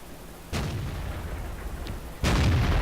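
Tank gun fire in World of Tanks from a Hellcat tank destroyer: two heavy booming shots, the first a sharp loud blast followed by a rumbling tail, the second about two seconds later, even louder and sustained, over a steady low engine drone.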